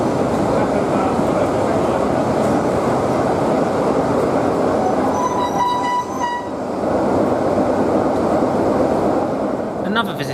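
A British Rail Class 47 diesel locomotive rumbles steadily close by, with a short high metallic squeal midway as it buffers up and couples to a driving van trailer.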